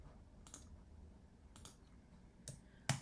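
Four sparse, crisp clicks of computer keyboard keys pressed for copy and paste, quiet and close, with a faint room hush between them.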